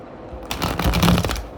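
A tarot card deck shuffled by hand, a quick riffling flutter of cards lasting about a second, close and clear with no talking.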